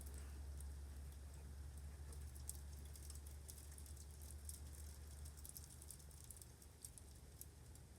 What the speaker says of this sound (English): that ice is hitting the freaking ceiling and the window so hard